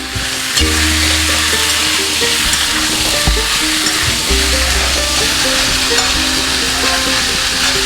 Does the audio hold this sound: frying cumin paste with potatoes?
yes